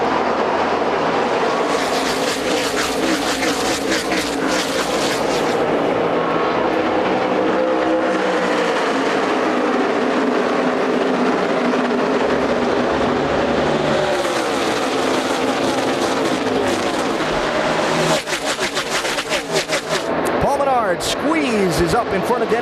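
NASCAR Nationwide cars racing at Texas during the O'Reilly Auto Parts 300, a loud continuous roar of engines sweeping past with rising and falling pitch, under steady commentary.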